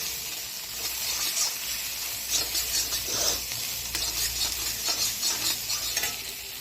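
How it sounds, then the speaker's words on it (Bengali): Spice masala for egg curry fries in oil in a pan, giving a continuous close sizzle with soft stirring scrapes and bubbling pops throughout. "দেখো, আমার মশলাটা তেল ছাড়তে আরম্ভ করেছে, এই যে তেল ছাড়ছে।"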